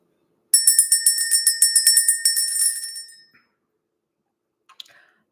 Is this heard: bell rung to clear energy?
yes